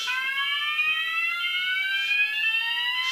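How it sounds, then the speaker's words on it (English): A fire alarm sounds continuously after a manual call point is pushed, a loud steady electronic tone with a slowly rising pitch and no speech over it. "I'm only filming my fire alarms only, and when they go off"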